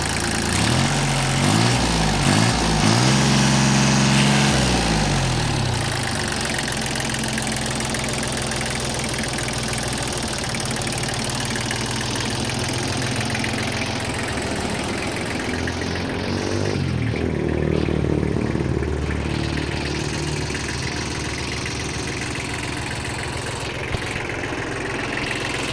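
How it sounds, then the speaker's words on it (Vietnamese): A Kubota 2601 single-axle-drive tractor engine is revved: a rough diesel that climbs and falls at the start, then settles into a loud, close, knocking idle, with another rise in revs partway through. "Này lên ga cho các bác nghe nha."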